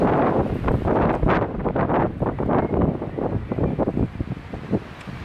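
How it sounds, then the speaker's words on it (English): Strong gusty wind buffeting the microphone outdoors, a loud low rumbling roar that swells and dips irregularly throughout. "The wind sure is picking up right now."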